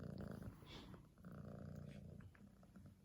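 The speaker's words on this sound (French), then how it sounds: "Oh, Cristalline qui ronronne, ma fille." A cat named in a household scene purring close to the microphone, a steady low rumbling loop with soft rhythmic breaths, mixed with faint growly animal sounds and no talk.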